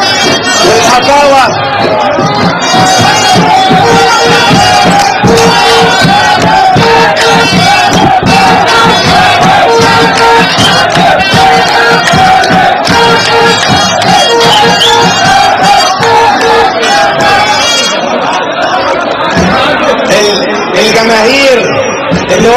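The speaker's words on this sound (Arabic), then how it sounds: "الجماهير اللي واقفه دي كلها جماهير كفر شق" Supporters at a political election rally in Kafr Shukr, Egypt, chant and cheer loudly in rhythmic waves, a dense crowd roar that fills the whole stretch with shouted slogans and babble.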